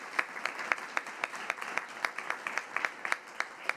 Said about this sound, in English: So if we can give a big round of applause to them